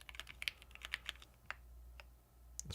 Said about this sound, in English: It's still a lot of typing, man.